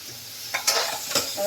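Onions and carrots sautéing in a pan while making vegetable gravy, with a steady close sizzle and a few brief stirring scrapes, no talking.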